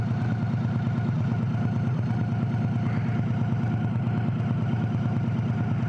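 A Victory Cross Country Touring motorcycle engine runs at a steady idle, a low, even rumble with a faint mechanical clatter and no speech.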